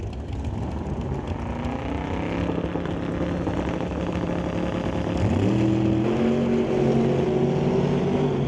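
Turbocharged Acadia drag car in the Canada West Doorslammers lane, its engine droning steadily then stepping up in pitch and loudness around the midpoint, a continuous mechanical roar heard from a distance without voices.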